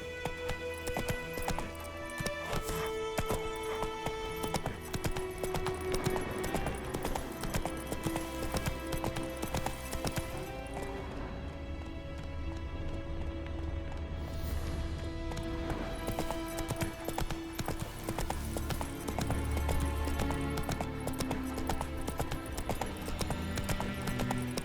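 The horse Roach galloping in The Witcher 3 video game, a steady rapid clip-clop of hooves running continuously under layered game music and ambience.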